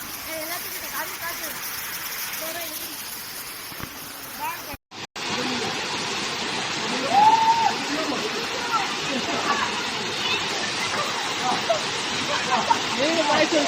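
A forest waterfall near Masinagudi roars as a steady broadband wash of falling water throughout, briefly cut by a short dropout midway, with faint voices and birdlike chirps under the continuous rush.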